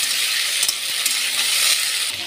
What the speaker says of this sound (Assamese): এনেকৈ ৰঙাকৈ ভাজি লওঁ অলপ সময়।